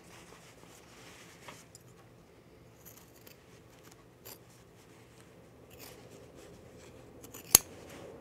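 Scissors trimming fabric while sewing: faint, sparse snips and soft rustles at close range, ending in one sharp, louder cut.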